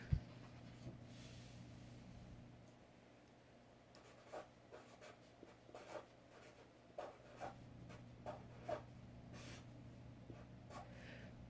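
A pen or pencil scratches on a separate sheet of paper in quiet, intermittent strokes, faint and close, over a low steady background hum, with no talking.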